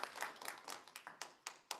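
A small group claps for a turn, faint and loose, with scattered individual hand claps and no steady rhythm, ending within two seconds.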